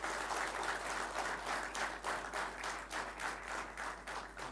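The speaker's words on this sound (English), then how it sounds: "A round of applause for this boy." Steady, even applause from an audience at a closing ceremony for a police officers' batch, dense clapping sustained for several seconds in a large room with a low hum beneath.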